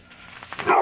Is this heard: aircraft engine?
no